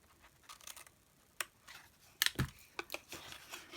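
Scissors snipping paper tabs while making a papercraft gift box, a handful of short crisp cuts, quiet and close, with small handling rustles between them.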